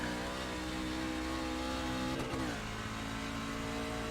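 A race truck engine in iRacing at Road America drones steadily at high revs, with a quick gear shift partway through that briefly dips the pitch before it climbs again. The sound is continuous and moderately loud.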